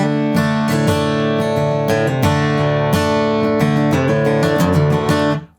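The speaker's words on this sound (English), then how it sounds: "So this is my beloved Martin HD28 herringbone acoustic guitar" Martin HD28 herringbone acoustic guitar played unplugged, with close, loud strummed chords and picked notes in a lively rhythm, ringing full and bright before stopping abruptly at the end.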